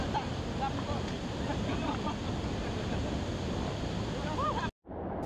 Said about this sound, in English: Nice sound of water rushing down the stones.